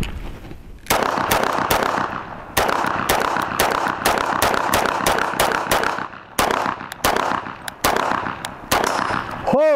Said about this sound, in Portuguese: vamos ver se eu consigo fazer tudo isso com 15 tiros